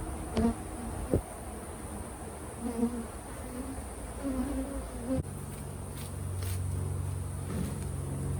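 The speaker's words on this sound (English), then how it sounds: "how many bees there are flying around" A dense swarm of honey bees buzzing steadily around a hive, close and continuous, with a few sharper individual buzzes passing near.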